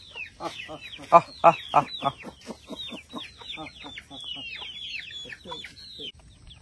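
Chickens cluck close by in a rapid series of short, throaty calls, some louder bursts near the start, then softer overlapping chatter.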